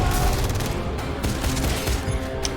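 Gunfire in the Wanted video game, a loud, dense volley of rapid shots and booms that fills the whole stretch with hardly a pause, and no talk over it.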